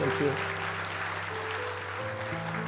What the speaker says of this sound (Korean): 우리 한번 큰 박수를 한 번 더 그동안 수고했습니다